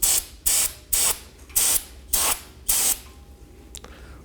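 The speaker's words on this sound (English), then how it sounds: "I'm going to spray some brake cleaner." Brake cleaner sprayed onto the hub mating surface of a 2018-2024 Chevrolet Equinox rear brake, six sharp hissing bursts in quick rhythm, loud and close, followed by quiet.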